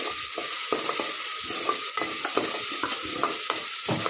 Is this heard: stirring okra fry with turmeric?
yes